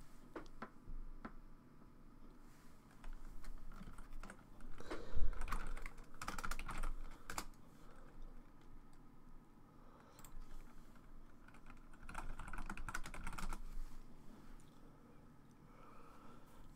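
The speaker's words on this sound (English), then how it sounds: "you just had my keyboard going fucking mental" Fast, irregular computer keyboard typing clatters in bursts at close range, with quiet gaps between flurries and no talk over it.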